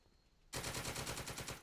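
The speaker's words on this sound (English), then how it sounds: "we can try to draw fire from the gun" A gun in the World War game Second Front opens up after a brief quiet, a loud, sustained burst of rapid automatic fire that runs on without pause to the end.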